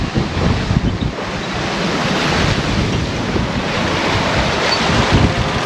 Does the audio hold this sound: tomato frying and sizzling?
no